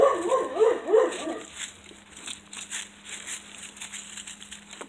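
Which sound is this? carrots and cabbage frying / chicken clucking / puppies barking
puppies barking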